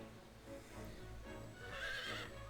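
A horse whinnies in Fire Emblem Warriors: Three Hopes, a short, bright neigh rising near the end, with faint clip-clop hoof sounds and quiet background underneath.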